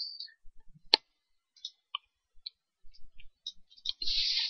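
Computer mouse clicks in a quiet room, several sharp isolated clicks spaced irregularly, close and clear, ending with a brief hiss.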